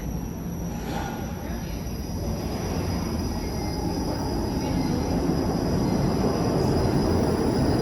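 Toronto TTC streetcar on the 510 Spadina route passing close by, a loud steady rumble of wheels on rails with faint squeal building toward the end, no talk.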